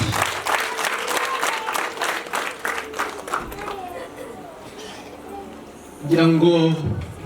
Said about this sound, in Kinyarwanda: Mutanga amashyi.